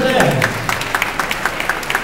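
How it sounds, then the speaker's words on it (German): Spectators at a boxing event clap in a quick, fairly even rhythm, the claps sitting under a voice talking over them. "einen riesen Applaus für diese Runde"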